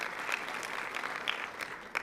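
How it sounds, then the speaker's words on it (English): Audience applause at a National Action Network event, a moderate, continuous patter of many hands clapping at a steady level, slightly distant, with a few sharper claps standing out. "let us give a round of applause for my dear friend."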